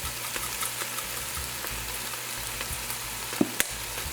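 Vegetables with adobo and Maggi fish seasoning stirred in a hot pot for a Trinidadian fish broth, a steady close sizzle with light crackle and two brief sharp clicks of a utensil near the end.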